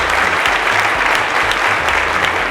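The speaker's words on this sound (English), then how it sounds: "A round of applause for him." Steady applause from an audience at a televised quiz show finale in Nigeria, a dense continuous wash of clapping with a low hum underneath, filling the whole moment without any voices.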